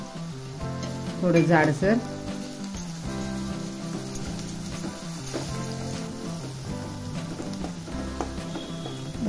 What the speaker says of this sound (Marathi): त्यामध्ये मी आलं लसूण टाकणार आहे। ते पण चांगलं परतून घ्यायचं आहे।